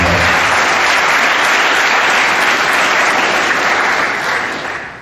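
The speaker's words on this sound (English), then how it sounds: "give these guys a round of applause for that" Loud, sustained audience applause at a high school spring sports awards assembly honoring the baseball seniors, dense and continuous before tapering slightly at the end, with no talking.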